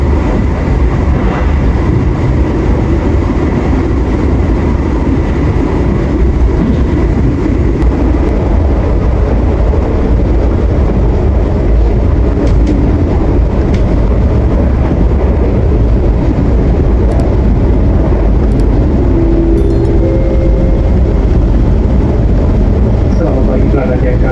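A fast-moving train rumbles loudly and continuously at 116-117 km/h on straight track between Jenar and Kutoarjo, Indonesia, with a steady roar and rattle heard from on board. A voice talks over the noise.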